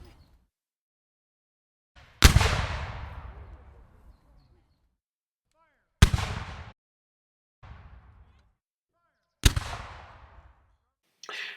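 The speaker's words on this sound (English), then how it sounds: "The day was spent with both sides engaged in ineffective artillery duel." Loud, sharp booms from an artillery duel in a Civil War battle in New Mexico, three big blasts with long rumbling decays and a couple of smaller thuds, spaced several seconds apart.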